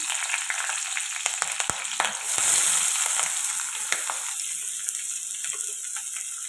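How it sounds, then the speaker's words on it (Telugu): Chopped green chilies and onions frying in a pan for chicken curry, a close crackling sizzle with scattered pops and brief spatula scrapes, a louder hiss surging midway, no voices. "ఇది కలుపుకొని బాగా ఫ్రై చేసుకోవాలి"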